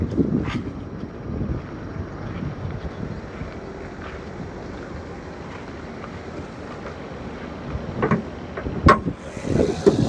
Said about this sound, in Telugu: ఇంజన్ బీటింగ్ కూడా చూడండి, సైలెంట్గా ఉంది.